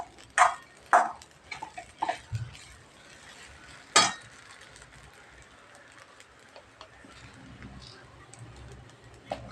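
Sabudana khichdi being stirred and sautéed in a pan over low heat, with a few sharp spoon clinks against the pan early on, then a soft, faint sizzle and scraping continuing quietly.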